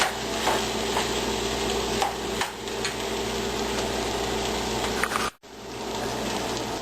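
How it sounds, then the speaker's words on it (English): Beans stirred into sizzling meat over a campfire or stove for cowboy-style sloppy joes, with a steady close scraping and frying sound that runs on continuously and stops briefly near the end. "And mix the beans in with the meat so it'll heat."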